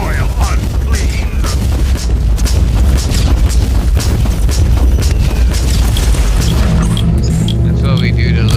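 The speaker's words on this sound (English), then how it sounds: "That grenade really took out a lot of area, though." Grenade blast in Warhammer 40K Inquisitor, a loud sustained booming roar with crashing debris and gunfire filling the whole stretch, heavy and dense throughout.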